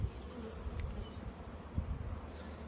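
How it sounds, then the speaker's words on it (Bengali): A dense swarm of many honey bees buzzes steadily at a managed hive, a continuous low drone with no voices, fairly quiet and close. "প্রচুর মৌমাছি হচ্ছে"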